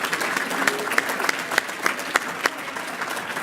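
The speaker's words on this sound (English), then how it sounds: "If you went to Central Michigan, you give yourself a big round of applause." An audience at a State of the County gathering claps together in a moderate, steady patter with some sharper individual claps standing out, fairly close and continuing without talk.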